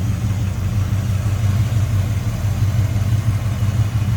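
1970 Oldsmobile Cutlass convertible with a numbers-matching 350 V8 and headers, idling close by with a deep, even, throbbing rumble, steady and loud throughout.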